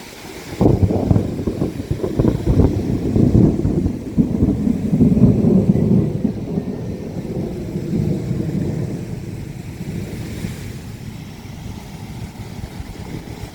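Thunder from a storm rumbles low and heavy, rolling continuously for several seconds before slowly fading, with steady rain and wind noise beneath, loud and fairly near.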